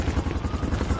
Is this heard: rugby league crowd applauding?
no